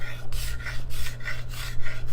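Hand scraper shaving end grain on a handmade guitar, a series of short, close rasping strokes in an even rhythm with a low steady hum underneath.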